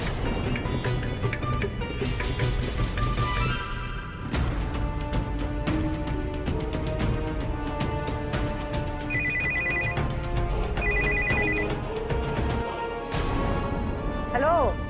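A telephone rings for an incoming call: loud repeated electronic ringtone bursts in a steady pattern, set over busy dramatic background music and occasional crashes, then cut off near the end.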